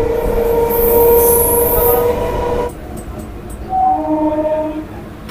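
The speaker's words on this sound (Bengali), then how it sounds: "আমাদের ট্রেন হাওড়া বর্ধমান পড লোকাল এখন ঢুকছে শিবাইচন্ডী স্টেশন" A Howrah-Bardhaman chord local train pulls into Shibaichandi station, wheels squealing loudly and rumbling close by before easing to a lower grinding run as it slows.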